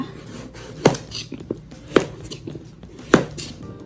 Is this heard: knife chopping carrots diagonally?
yes